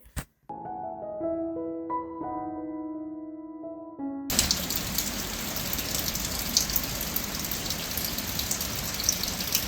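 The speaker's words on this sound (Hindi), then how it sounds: "वेदर अपडेट ये है कि इस पूरा हफ्ता मूसलाधार तूफानी बारिशें हुई हैं." Heavy stormy rain: a steady, dense hiss of downpour that begins abruptly after a short melodic chime intro and continues loudly to the end.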